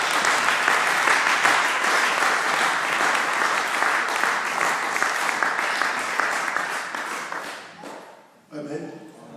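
A church congregation bursts into sustained loud applause during a French-language service, dense clapping holding steady for several seconds before tapering off, with a voice briefly audible near the end.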